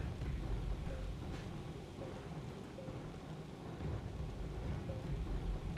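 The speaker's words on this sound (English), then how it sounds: "And of course storms, which people either love or hate." Thunderstorm in the Astroneer video game: a steady wash of heavy rain with low rolling thunder rumbling throughout, with no voices over it.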